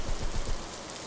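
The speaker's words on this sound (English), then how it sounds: "The rain is so strong, I need to get home as soon as possible." Heavy rain pours down in the horror video game Jasei no In, a dense steady hiss of falling drops, loud and uninterrupted, with no voices.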